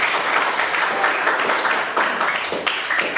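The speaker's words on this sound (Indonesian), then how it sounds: "Oke, tepuk tangan buat" A classroom of students applauding during a technical drawing lesson, steady bright clapping from many hands filling the room, close and continuous without a break.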